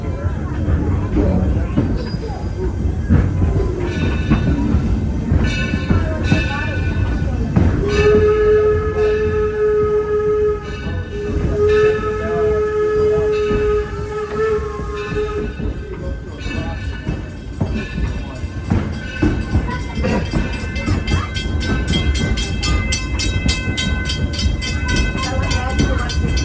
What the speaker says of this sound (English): That's the train to Chicago that goes there.